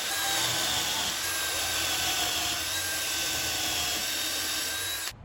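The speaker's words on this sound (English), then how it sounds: "drilled the holes for the dowel joinery using my Dowelmax" A power drill bores dowel holes in a wooden leg and rail of a bedside table, guided by a Dowelmax jig; a steady, loud whine runs for about five seconds and then cuts off abruptly.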